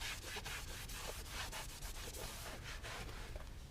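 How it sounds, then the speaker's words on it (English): A cloth wiped briskly along a Tesla door sill to clear off gunk, close rhythmic rubbing strokes that run continuously and fairly loud with no talking. "Gonna give that a quick wipe down, make sure you get as much of the gunk off of it as possible"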